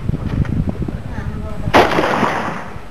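A single sharp gunshot cracks out during a hunt in Savran, landing after a stretch of murmured voices and leaving a fading rumble behind it.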